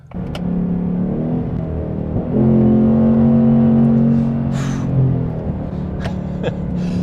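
A 2024 Mustang GT with a naturally aspirated V8 gives a deep, steady engine drone that swells into a louder, throatier pull midway, then settles back, heard from inside the car.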